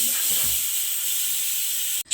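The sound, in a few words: pressure cooker hissing steam while boiling eggs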